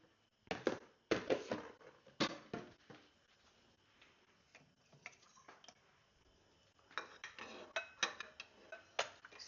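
Diced, drained potatoes for homemade clam chowder are stirred in a pot, with a spoon knocking and scraping in quiet, irregular clusters of clinks and pauses between them.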